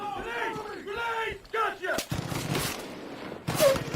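Far Cry 5 multiplayer gunfight with sharp gunshot bursts, a sniper among the shooters, booming close over shouting and voices, with a loud blast near the end.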